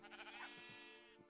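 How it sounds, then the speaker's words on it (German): Sheep bleating in the Minecraft FTB Revelation modpack, a single drawn-out wavering bleat lasting about a second, faint and quiet with no voices over it. "Das kleine Schaf läuft dir sowieso hinterher."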